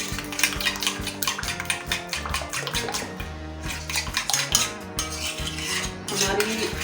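Cream and sugar for a Russian salad are whisked briskly in a bowl. The whisk makes a rapid, steady clatter and scrape against the sides, close and fairly loud, with no talking.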